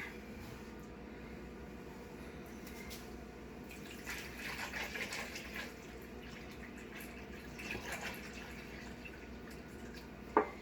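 Tap water being poured for a red cabbage indicator activity: a faint, steady trickle and splash at low level with a few brief clinks, and no talking.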